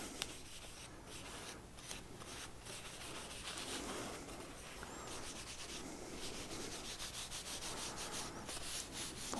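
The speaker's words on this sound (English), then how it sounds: "Work it into the wood a little bit." A steady, soft rubbing swish as a beeswax and coconut oil coating is worked into wood by hand, continuous and close for several seconds with faint strokes and no talking.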